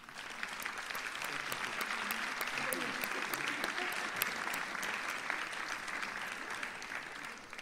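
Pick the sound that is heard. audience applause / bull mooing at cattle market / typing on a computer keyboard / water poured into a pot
audience applause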